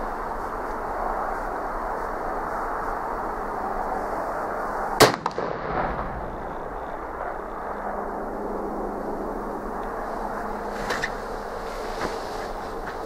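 A single loud, sharp gunshot from a Tingle .44 black-powder pistol firing a round ball, close and abrupt with a short decaying tail against steady background noise, followed by a faint smaller pop later.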